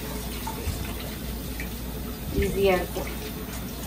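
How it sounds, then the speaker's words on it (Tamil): Hot water from a kitchen tap runs steadily into a sink while vegetables are washed, a constant close splashing flow, with someone talking over it. "இது எனக்கு வந்து இந்த டேப் நல்லா சுடு தண்ணி வரும். அதனால சூடான தண்ணியிலேயே நான் கழுவிடுறேன்."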